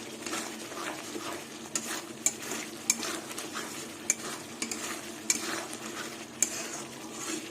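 Mung dal being sautéed with ginger and cumin in mustard oil, a soft steady sizzle broken by repeated sharp clinks and scrapes of a spatula stirring against the pan.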